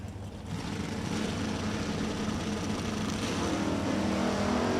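Drag race cars, including a Chevelle, roar down the track at a fall slam event, a loud continuous engine blare building in intensity with dense broadband rumble, heard from a distance without talk.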